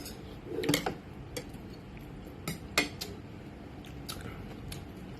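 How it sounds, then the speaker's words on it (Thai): Someone eating a home meal of rice with crab, mild tongue-pasty chewing and a few soft bites spread across the span, with light clinks of cutlery against a plate, fairly close and quiet with no talking. "กินข้าวต่อครับ"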